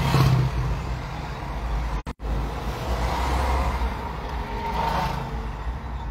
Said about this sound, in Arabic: الطاكسي جاي والموتور بغا يدور